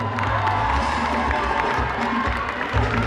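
Audience at a Miss Congo France pageant applauding and cheering for a contestant, a loud continuous crowd roar with whoops and shouts over dense clapping throughout.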